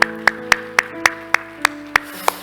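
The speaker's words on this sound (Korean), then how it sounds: "우리 하나님께 영광을 박수합시다" Rhythmic clapping in unison from a church congregation giving glory to God, about ten sharp, evenly spaced claps over a sustained musical tone, loud and close.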